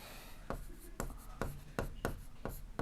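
Pen writing on paper during a Class 7 maths lesson on triangle congruence: repeated short scratchy strokes at a steady rhythm, close and fairly quiet, with no talk.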